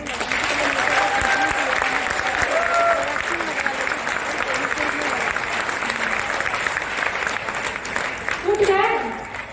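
Loud, sustained audience clapping at a product training camp session fills the room as a dense wash, with voices calling and cheering over it and a louder swell near the end.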